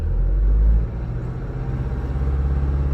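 A 2.2 Skyactiv diesel engine in a Mazda 3 is held at about 2000 RPM, giving a steady loud low rumble with a slight dip after the first second and no talk.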